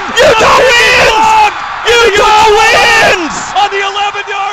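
A stadium crowd erupts at Rice-Eccles Stadium after a blocked kick seals a 17-16 Utah rivalry win over BYU, a loud sustained roar of cheers, whoops and yells filling the air, with a commentator's voice shouting over it.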